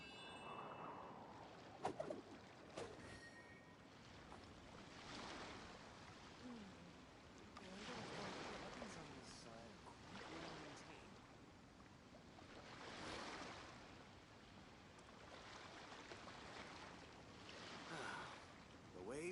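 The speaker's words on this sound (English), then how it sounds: "Waves are as calm as always." Calm ocean waves in the video game Genshin Impact wash in soft, steady surges, quiet and even, with a light wind-like hiss and no talking.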